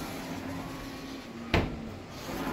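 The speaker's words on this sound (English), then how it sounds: "it's a nice little sliding door." A small sliding door on an Ice Castle fish house makes one short, sharp sliding thud close by against a steady background hum.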